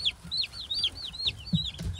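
Backyard homestead chickens cluck in a quick series of close, rhythmic calls, with soft scuffling underneath.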